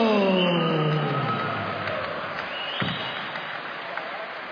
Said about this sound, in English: can I please ask you to keep that round of applause going for our gallant runner-up